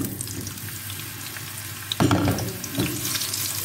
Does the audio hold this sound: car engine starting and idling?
no